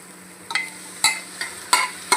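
Boiled chickpeas tipped into masala frying in a pan, a handful of soft sizzling bursts and stirring scrapes at irregular intervals, close by with no talk.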